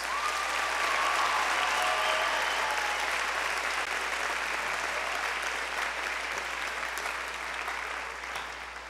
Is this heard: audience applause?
yes